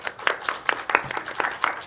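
An audience at a film forum claps in a short, uneven patter, with separate hand claps easy to pick out and a few quiet voices in the room.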